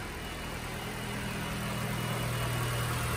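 A 2015 Acura ILX with a 2.0 liter engine and automatic transmission, about 85,000 miles, idles smoothly with a steady low hum that holds even throughout, no talk.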